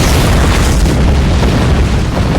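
A loud, sustained explosion from a Star Trek-style space video game roars as a dense, continuous boom that fills the whole clip at high volume.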